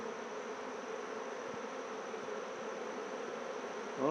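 Honey bees crowd an opened hive in an apiary, giving a dense, steady buzzing hum that stays faint and even throughout, swelling slightly louder right at the end.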